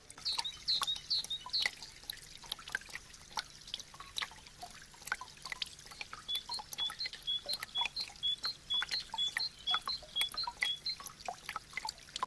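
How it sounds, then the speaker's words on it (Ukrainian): Melting snow drips steadily and quickly in soft, irregular taps in spring, close by and faint, with a bird chirping now and then in the background. "Тане сніг біжать струмочки."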